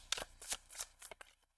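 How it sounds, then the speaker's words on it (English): Tarot cards are shuffled by hand in quick crisp riffles, several sharp papery flicks in close succession, soft and near. "Two shuffles."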